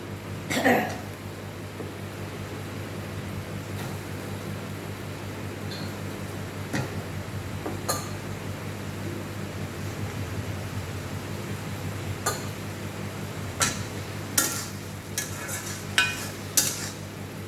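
Potatoes stir-fried in a pan for egg curry, with scattered spoon scrapes and clinks against the pan over a low, steady kitchen hum and faint sizzle.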